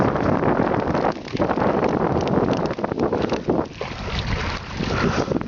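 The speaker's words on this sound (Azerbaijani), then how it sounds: "Biraz da külək də başladı." Wind blowing over open water on a fishing trip off Qum Island, a strong, steady roar buffeting the microphone with gusty dips and some water noise, no talking.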